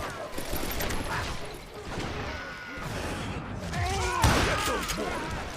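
Gunfire in the Western shooter game Call of Juarez: Gunslinger comes as bursts of rapid shots and thuds. The shots are mixed into a busy game soundscape with voices talking over it.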